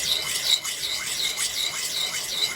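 An old axe head being honed on a 600 grit sharpening stone lubricated with WD-40, giving steady repeated rasping strokes, roughly six passes with a bright scraping edge, close and alone.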